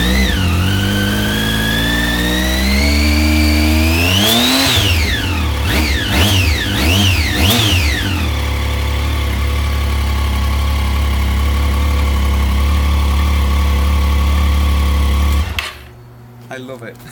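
A Triumph Street Triple motorcycle engine idles steadily from a cold start, revs up and down in several quick blips, then settles back to a smooth idle before cutting off near the end, loud and close.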